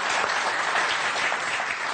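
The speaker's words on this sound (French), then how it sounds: "Et si on applaudissait nos quatre candidats ?" A game show audience applauds the four contestants with dense, even clapping, loud and continuous from start to finish with no voices over it.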